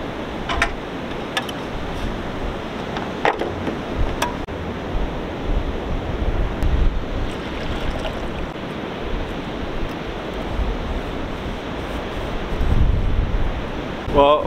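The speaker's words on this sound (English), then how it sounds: "the wind is probably like 15 miles an hour" Wind of about 15 miles an hour blows outdoors on a cool day, a steady broadband rush and buffeting against the microphone for the whole stretch, with a few faint clicks and ticks over it.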